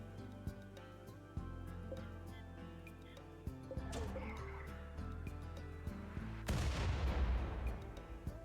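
Enemy mortar fire in the colony-building game Rimworld, mid-distance shell launches and impacts thumping at irregular intervals over a steady game background, with a heavier, louder blast near the end.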